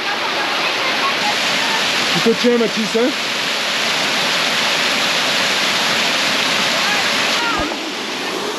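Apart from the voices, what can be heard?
waterfall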